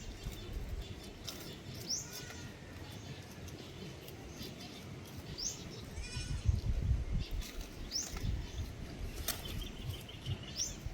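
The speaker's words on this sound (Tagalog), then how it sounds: "Ang dami dong kambing guys, oh." Goats bleating in an outdoor rural setting, several wavering calls popping up at intervals over a steady bed of wind and ambient noise, moderately distant and fairly faint.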